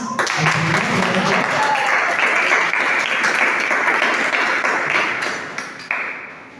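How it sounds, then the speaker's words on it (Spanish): A congregation at a church sermon claps loudly and continuously for several seconds before the applause tapers off. "Vamos a dar una ofrenda de palmas."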